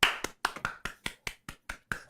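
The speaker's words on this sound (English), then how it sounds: "I'm gonna do a faster clap" Ten sharp hand claps in a steady, fairly quick rhythm, close by and evenly spaced, with nothing else heard.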